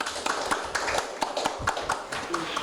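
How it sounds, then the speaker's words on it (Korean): An audience at a Korean international labor policy forum claps to welcome the moderator; quick, evenly spaced claps stay at a moderate level throughout. "우리 박수로 좀 환영해 주시기 바랍니다"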